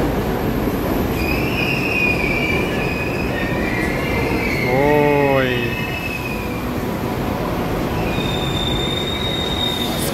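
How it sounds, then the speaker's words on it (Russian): Moscow metro 81-765 train wheels slipping on a wet, flooded track, a loud rising squeal with harmonic whine near the middle over constant heavy rail rumble and a high steady tone. "скольжение, походу, из-за воды."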